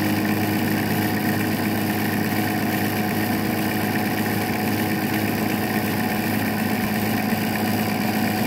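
An engine idles steadily during a distributor timing check, its dwell set near 30, giving a continuous, even mid-pitched rumble throughout with no other sounds.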